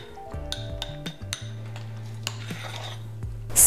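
Teaspoon mixing food colouring into buttercream in a bowl, with a quick run of light metallic clinks and taps over a steady hum, ending in a louder scrape.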